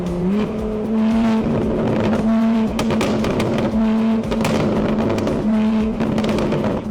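Car engine revving hard in traffic, a steady loud roar with rising and falling pitch and repeated sharp exhaust pops and crackles throughout, no talk.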